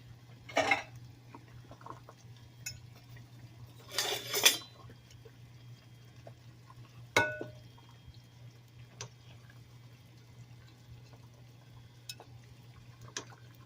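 A few sparse clinks of dishes and cutlery while taco spaghetti is plated, the scattered taps spaced seconds apart over a steady low hum in a quiet kitchen.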